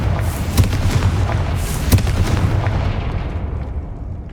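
Confringo fire spells exploding in Hogwarts Legacy on PC, a dense rumbling barrage with sharp booming blasts near the start and around two seconds, loud and close, the roar thinning toward the end.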